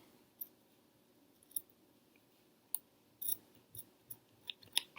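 Scissors trim crocheted hemp cord in a quiet room, a series of about eight to ten small, crisp snips and clicks coming at irregular intervals, close and faint.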